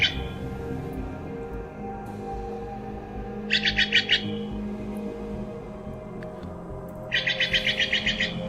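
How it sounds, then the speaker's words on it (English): Two bursts of a Steller's jay's harsh, rapid repeated call, played as a stream redeem sound, each a quick string of raspy notes over a low background hum. "this is what is called a Stellar Jay"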